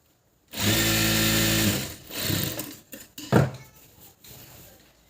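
A sewing machine runs in one steady burst of about a second, stitching a double-folded hem on a patiala pant. It stops, and softer handling noises of fabric and the machine follow.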